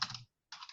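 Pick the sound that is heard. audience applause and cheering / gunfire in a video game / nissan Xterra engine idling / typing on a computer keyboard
typing on a computer keyboard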